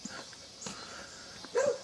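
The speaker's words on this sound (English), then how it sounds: "The dog's barking and stuff." A dog gives a few faint, brief barks at a distance outdoors, the last one slightly louder, with no talking over it.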